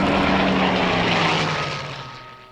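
Droning engine of a WW2 Hawker Hurricane propeller fighter, a steady loud roar with a low throbbing tone that fades out toward the end.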